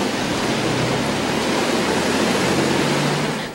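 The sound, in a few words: heavy rain and strong wind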